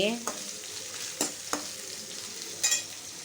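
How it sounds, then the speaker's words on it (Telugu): Potatoes frying in a pan, a quiet steady sizzle broken by a few sharp scrapes and clinks as they are stirred, close by with no talking. "ఇక్కడ వచ్చేసి పొటాటో ఫ్రై చేసుకుంటున్నాను అన్నమాట బంగాళాదుంప ఫ్రై"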